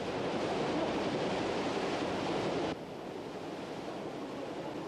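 Dense, roaring broadband rush of water falling at a lock dam, loud and steady, then dropping somewhat in level partway through and continuing, with no voices.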